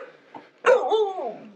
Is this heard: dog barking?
yes